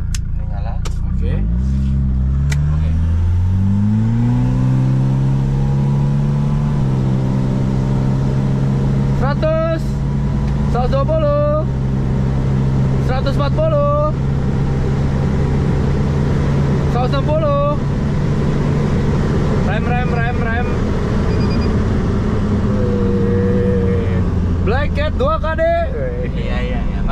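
Toyota Innova with a 2KD diesel engine revving for a launch-control run, the low engine drone rising and holding steady, with people talking and calling out throughout.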